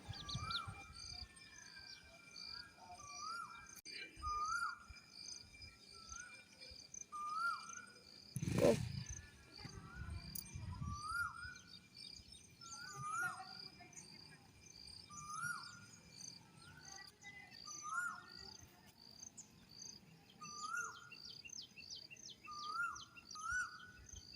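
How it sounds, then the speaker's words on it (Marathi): An Asian koel calls repeatedly with rising notes every couple of seconds against a constant chorus of crickets and small birds, with one brief close thump midway. "इथं कोकिळेचा आवाज बघा किती सुंदर वाटत होता"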